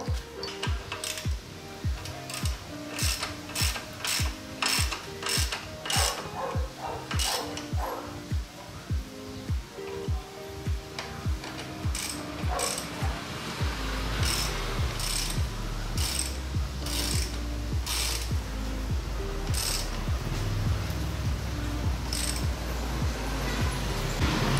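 Wrench or ratchet clicking in rapid, steady bursts as bolts are tightened on a YSS 340mm rear shock being installed on a Honda Wave 110R motorcycle, close and loud, later joined by a heavier continuous mechanical noise.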